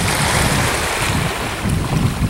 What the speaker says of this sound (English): the sound of the gentle waves lapping up on the shore